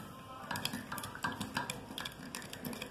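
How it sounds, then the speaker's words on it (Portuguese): A utensil clinks and scrapes against a container while stirring a homemade mold-stain cleaning solution made with pharmacy ammonia, with quick repeated taps and swishes close by. "Mexa bem"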